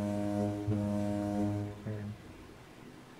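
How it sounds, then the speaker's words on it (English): A vehicle air horn in the Star Citizen video game blares as a steady, loud, low tonal blast for nearly two seconds, briefly broken, then fades into background noise. "That was an air horn you gotta turn on, bro."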